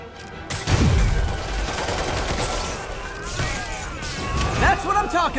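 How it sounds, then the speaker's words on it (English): Bursts of gunfire in the Spider-Man Remastered video game, with rapid shots and crashes over a loud, busy action soundscape, mixed with shouting voices. "Gunshot coming!"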